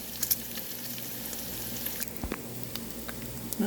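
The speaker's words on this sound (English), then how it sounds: "While your bacon is cooking" Bacon sizzling and frying in a pan, a steady close crackle with scattered pops and spits running throughout, no talking.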